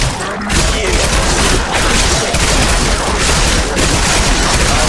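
Sustained rapid gunfire from Wraith guns in a shooter video game, a dense continuous barrage of loud automatic shots with booming impacts filling the whole stretch.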